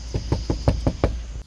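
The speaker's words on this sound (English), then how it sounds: "I'm going to knock on the door, let them wait, and then sneak behind them." Six firm knocks on a door in an even rhythm, close and punchy, then quiet, with no voices.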